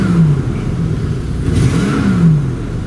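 Engine of a 1989 Holiday Rambler RV running and revving, with a low rumble rising and falling in pitch through several throttle blips, close and loud, no talking.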